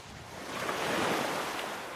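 Ocean waves wash and surge in a steady broadband hiss that swells and eases over two seconds, fairly faint and with no voices.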